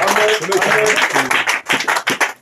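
A church congregation applauding in praise: steady, dense clapping mixed with loud voices and sustained sung or shouted tones, with the claps becoming more distinct near the end.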